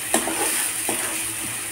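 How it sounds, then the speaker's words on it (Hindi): Spices and asafoetida fry in a pan of hot oil, giving a steady close sizzle with a few light scrapes of a stirring spoon. "इन सारी चीज़ों को हम अच्छे से फ्राई कर लेते हैं।"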